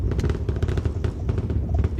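SpaceX Starship Flight 10 launches with its rocket engines firing, a rough, crackling roar full of rapid popping bursts over a deep, continuous rumble.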